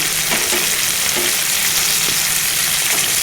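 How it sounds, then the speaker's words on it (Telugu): Curry leaves and coriander frying in hot oil for Maharashtrian aloo poha, a loud, dense, continuous sizzle with a few soft stirring knocks. "గుప్పెడంత కరివేపాకు, గుప్పెడంత కొత్తిమీర వేసుకుంటే బాగుంటుందండి."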